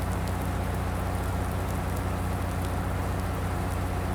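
Steady rain pours down in the farming game Farming Simulator 19, a dense continuous wash of drops with a low engine drone underneath, even and unbroken throughout.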